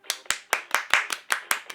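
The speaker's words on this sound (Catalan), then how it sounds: "a mí me duele la muñeca de tanto aplaudir" Hands clapping in a clear steady rhythm, about nine sharp claps in under two seconds, close and loud with no other sound.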